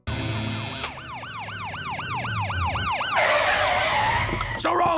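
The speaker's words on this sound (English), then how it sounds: "As this happens, we hear sirens coming from outside." Cartoon emergency sirens wailing outside in rapid rising-and-falling sweeps, loud and continuous, then giving way to a harsher blaring tone and a brief screech at the end.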